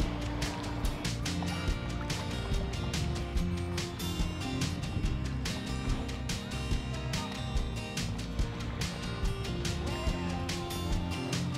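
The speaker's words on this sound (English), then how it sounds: "there were a lot of aquatic birds flying around and playing on that" Many waterbirds call on an island in the Swan River in Perth, a dense, continuous chorus of repeated squawks and gobbling cries, close and loud.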